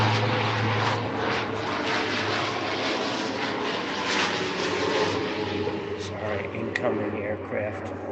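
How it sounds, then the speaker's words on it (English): A propeller aircraft flies overhead with a loud, sustained droning engine roar and a low steady hum. Voices talk over parts of it. "aircraft."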